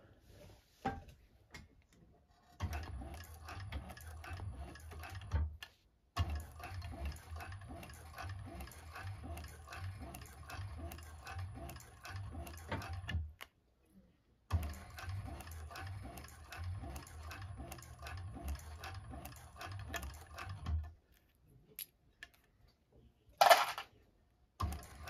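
A 1341 cylinder-arm sewing machine stitches around a bag seam with back stitching. It runs in bursts of fast, even mechanical clatter. Short pauses fall between the runs, and a few clicks come at the end.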